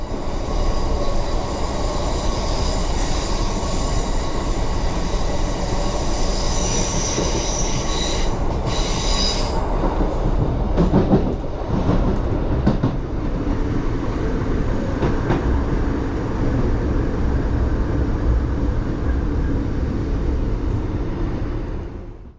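A TransPennine Express train rolls into Manchester Piccadilly station, a loud continuous rumble of wheels on rail with wheel squeal and clattering over points as it slows, no voices present.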